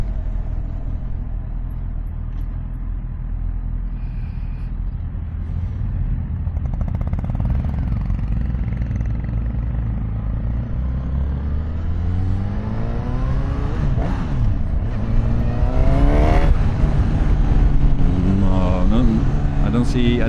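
Engine of a Honda CB1000 Hornet 1000cc naked motorcycle pulling steadily under throttle, a low continuous drone rising in pitch as it accelerates into third gear, with wind rush and someone talking over it.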